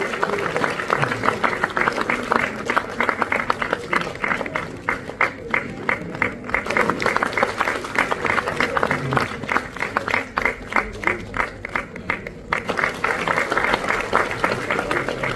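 An audience at a Hindi promotion programme in Kashmir applauds loudly as students walk onto the stage. The clapping is sustained and rhythmic, with some crowd murmur and voices underneath.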